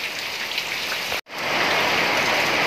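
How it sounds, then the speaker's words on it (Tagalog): Heavy morning rain pours down behind a house in a dense, steady hiss, briefly cut off for an instant before resuming just as loud. "Biglang lumakas yung ulan."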